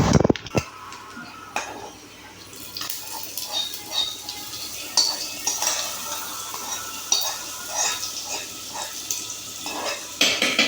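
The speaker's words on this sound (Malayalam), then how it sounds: "തേങ്ങ നല്ല പോലെ മൂത്ത് വന്നിട്ടുണ്ട്. നമുക്കിത് പച്ചടിയിലേക്ക് ഒഴിച്ചു കൊടുക്കാം." Fried coconut tempering is tipped into a pachadi for an Onam sadya, giving soft sizzling with intermittent stirring and clinks of a metal pan and utensils, fairly quiet and close.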